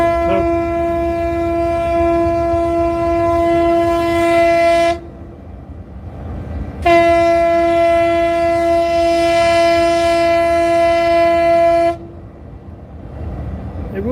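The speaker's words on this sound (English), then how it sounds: "You'll hear the foghorn in a minute." A ship's foghorn blows two long, loud, steady harmonic blasts out at sea, each about five seconds, separated by a short gap, with low background rumble and no talk.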